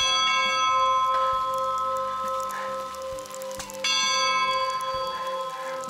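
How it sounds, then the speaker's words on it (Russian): A large wishing bell on the Nockalm Road in the Austrian Alps rings twice, each strike ringing out with a long, shimmering sustain that fades slowly, with light patter in the background. "позвонить в этот колокол желаний."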